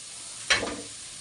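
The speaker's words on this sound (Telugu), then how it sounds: "బాగా ఫ్రై చేసుకోండి. వచ్చేదాకా ఆయిల్ సైడ్స్ అంతా ఆయిల్ బయటకు వచ్చేలాగా" Masala for chicken curry sizzles in hot oil, a single brief burst of frying hiss that swells suddenly and then settles into a softer crackle.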